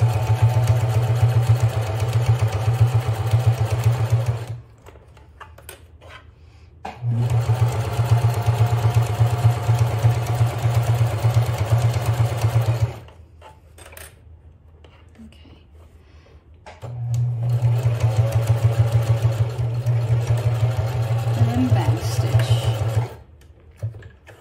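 Sewing machine stitching a back-stitched bag seam, running in three long steady bursts of motor whir with short quiet pauses between.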